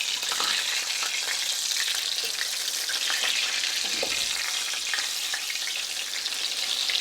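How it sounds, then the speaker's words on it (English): Turned pieces of chicken-fried chicken frying in hot oil, a dense, loud, steady crackling sizzle that carries through the whole stretch, close up, with no voices. "And I'm going to let this side fry for about 3 minutes."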